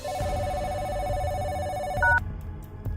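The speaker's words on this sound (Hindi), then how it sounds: "किसका फोन है?" A telephone rings loud and close with a steady electronic bell tone lasting about two seconds, then cuts off abruptly, over a low background bed in a dramatized Hindi horror story scene.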